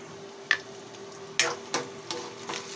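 Onion and garlic sautéing in a pan for Filipino ginisang ampalaya, with a low steady sizzle and a few sharp clinks and scrapes of a utensil stirring against the pan.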